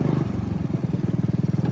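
Small engine of a John Deere riding lawn tractor with one cylinder not firing, chugging steadily at close range with a rough, uneven pulsing beat and no talk over it.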